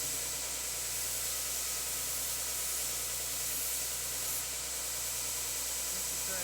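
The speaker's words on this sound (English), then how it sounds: "So here I'm at the belt sander." Steady, loud broadband whirring grind of a belt sander running continuously, hissy and unbroken throughout with no pauses.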